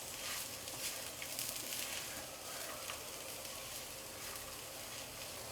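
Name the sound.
coconut being roasted in a pan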